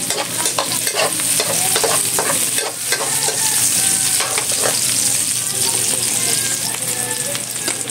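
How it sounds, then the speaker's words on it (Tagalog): Onions being stirred and fried in a pan for chop suey, loud close sizzling broken by repeated scraping and clattering strokes of a utensil, with no speech. "Mix natin at sibuyas."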